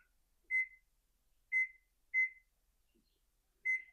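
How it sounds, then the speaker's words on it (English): Four short, clear electronic beeps from an oven timer being set in a home kitchen while a spatchcock turkey goes back in at 375 degrees, spaced irregularly and heard alone in an otherwise quiet room. "I'm going to put it back in the oven at 375, set the timer for 90 minutes,"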